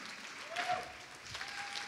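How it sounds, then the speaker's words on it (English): A church congregation claps during a sermon service, a faint, distant patter of many hands going on steadily throughout. "Come on, keep clapping for them that are going right now."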